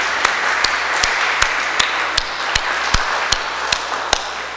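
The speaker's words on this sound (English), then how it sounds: "We give him a round of applause." A congregation at St. Gabriel's Church applauds during Holy Mass, a soft background patter of clapping punctuated by sharp, evenly spaced claps from one nearby pair of hands, with a low hum underneath.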